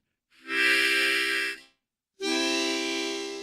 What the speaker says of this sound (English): So we're just going to take the harmonica